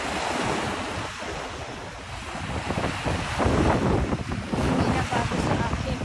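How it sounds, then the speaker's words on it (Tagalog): Heavy surf pounds and rushes continuously nearby on Manila Bay, mixed with strong wind buffeting the microphone. "pag yung ganito ka lakas ang alon"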